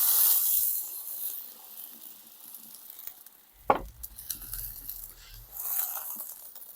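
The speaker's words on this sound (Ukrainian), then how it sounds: "І заливаємо все це діло водою." Water poured into a hot pan of frying boar-cheek fat, spices and peppers, with a loud sizzle and hiss that bursts up suddenly then bubbles and seethes, close up with no talking.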